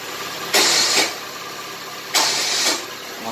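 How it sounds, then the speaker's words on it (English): A steady electric winch motor hum runs throughout, with two louder whirring bursts as the mechanism engages, each lasting about half a second. "you can hear the winch moving"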